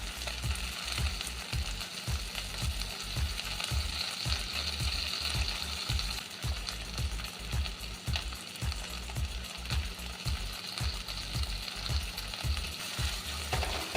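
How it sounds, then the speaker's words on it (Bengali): Tomato and chili paste fries in ghee with a steady sizzle, and a utensil scrapes the pan in a regular rhythm of repeated strokes, close-up, with no voices. "আর দেবো অল্প লঙ্কা বাটা দিয়ে একটু ভেজে নেব"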